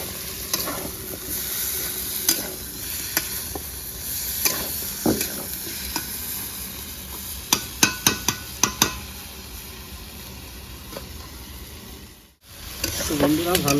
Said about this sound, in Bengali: আলুকে 5 মিনিট কষে নেবো গ্রেভির সঙ্গে